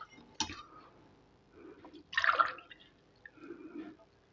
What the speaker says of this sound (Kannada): ಇವಾಗ ಇದಕ್ಕೆ ನಾನು 2 ಗ್ಲಾಸು ನೀರು ಹಾಕ್ತಾಯಿದ್ದೀನಿ